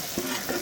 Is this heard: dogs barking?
no